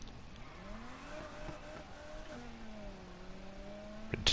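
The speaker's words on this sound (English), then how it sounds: "Kinda sounds like a V8, it might be a V6." A V8 or V6 car engine in the racing game Need for Speed Heat hums at moderate distance, its pitch sliding up and down through gear changes, steady and fairly quiet with no speech.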